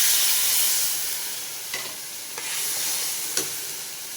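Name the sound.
keema minced meat frying in garlic paste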